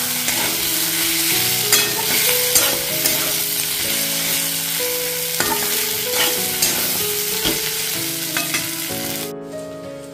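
Ivy gourd (kundru) pieces frying in a pan, with a steady sizzle and repeated stirring clatters that continue through the whole stretch with no voice over them.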